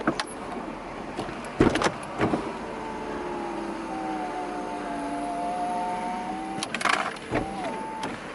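A Mercedes-Benz R129 SL500 convertible hard top locks down with a few sharp mechanical clunks, then an electric motor whine rises steadily as the power windows roll up, followed by more clunks at the end.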